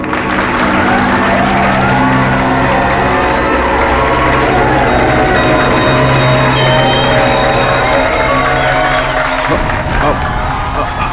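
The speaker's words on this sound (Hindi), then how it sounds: "तालियां!" A loud TV-show studio audience claps and cheers continuously for several seconds, with background music, before the applause fades near the end.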